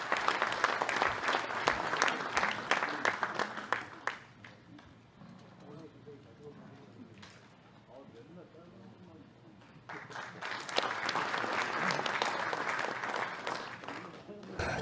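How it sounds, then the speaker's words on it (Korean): Sustained applause from party lawmakers and local committee chairs at a Liberty Korea Party joint meeting, a dense roomful of clapping that fades under a speaker's amplified voice, then swells again loudly. "박수로 맞아주십시오."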